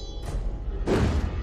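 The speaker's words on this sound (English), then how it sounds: "the hobby horse smashes through weak surface walls with ease" Hobby horse weapon smashing through a weak wall in the video game Alice: Madness Returns, a heavy thudding crash that bursts out loud partway through amid a rumbling game background.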